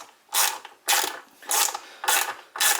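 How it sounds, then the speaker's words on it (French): Screws are driven in while fitting a Stratocaster-type vibrato to a guitar: five close, evenly spaced bursts of quick ratcheting clicks, each about a third of a second long with short pauses between. "Donc là, on finit de visser"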